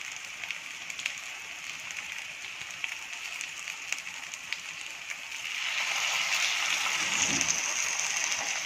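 Potato chapli kebabs shallow-fry in a little oil in a pan, giving a steady crackling sizzle that swells louder partway through and continues without talk.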